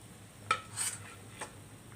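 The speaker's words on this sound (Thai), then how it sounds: "คนนิดนึง" Jackfruit, tomato and pork bone curry stirred in a pot: a few faint, brief utensil clinks and scrapes spaced apart, against a low background hum.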